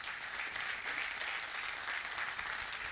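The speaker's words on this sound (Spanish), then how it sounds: "¿Cuántos le dan un fuerte aplauso a Dios por eso?" Steady applause from a church congregation answering a preacher's call, a dense even patter of many hands filling the whole stretch with no voices standing out.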